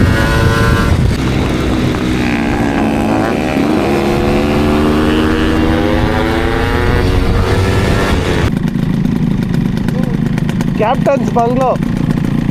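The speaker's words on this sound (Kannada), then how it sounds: "ಗಾಡಿ ಅಷ್ಟೇ ಸ್ಟಾರ್ಟ್ ಆಗೋಯ್ತು" A two-stroke Yamaha RX motorcycle engine starts and runs loud and close, its revs rising and falling under steady talk in Kannada.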